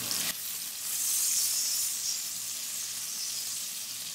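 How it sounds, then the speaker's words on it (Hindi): Onions sautéing in a few tablespoons of hot oil in a pan, a steady bright sizzle that swells briefly after the first moment and holds at an even level, close and alone. "3 से 4 टेबल स्पून ऑयल डाल दें, 1/4 कप अनियन सॉटे करेंगे"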